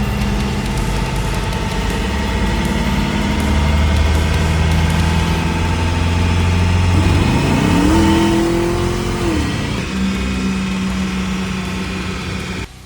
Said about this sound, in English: custom dyno tune that 65 Cadillac that you guys are watching right now